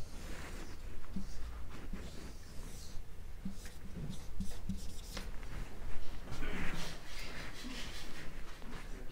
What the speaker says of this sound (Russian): Значит, я вам сейчас рисую полушарие.